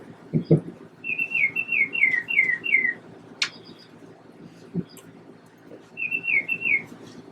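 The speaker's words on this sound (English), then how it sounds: "There's my birds." Small birds whistle and chirp in quick falling runs of notes, with two clear bursts of song a few seconds apart. The sound is moderately close over a low room hum, with a few knocks and thumps and no talking.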